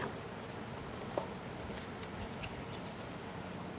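Soft, steady riffling of tarot cards being shuffled, a quiet papery hiss with a few faint flicks and no talking.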